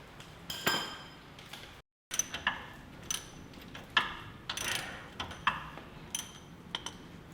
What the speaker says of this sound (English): taking the nuts off the bottom of the U-bolts